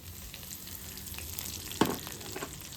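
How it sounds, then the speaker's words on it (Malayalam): Shallots and curry leaves fry in oil for a Kozhikode-style tapioca curry, a steady soft sizzle with one clear scrape of stirring midway. "കറിവേപ്പില ഇട്ട് നന്നാക്കി ഒന്ന് ഇളക്കി കൊടുക്കട്ടോ"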